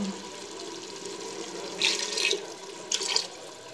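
Water is poured from above into a pressure cooker holding mash (urad) lentils in a home kitchen, in two short splashing bursts, the second briefer, over a quiet background.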